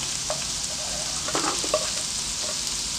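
Garlic and onion sauté in hot oil for a native chicken adobo, with a steady bright sizzle and a few light stirring taps close by.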